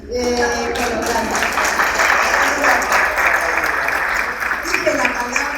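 Audience applause fills a conference hall at the closing of a migration studies symposium, steady and loud clapping sustained throughout with a brief voice near the start.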